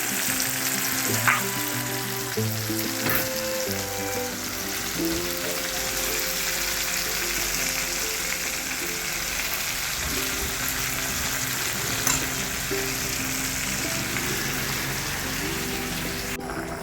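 Chicken fries in a pan with ginger, garlic, onion and chili powder, giving a long, even, dense sizzle with occasional light stirring clicks; faint tonal music sits underneath throughout.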